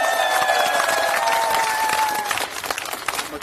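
An outdoor crowd at a street press conference in Gunsan's modern history district breaks into dense, loud applause, sustained at first and then thinning into scattered claps, with a few faint cheers mixed in.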